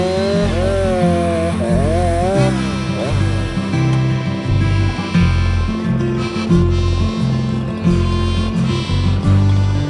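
A Husqvarna chainsaw fitted with a TrioBrake runs loud and close in a park, its engine revving and bogging unevenly as it cuts, while someone talks over it.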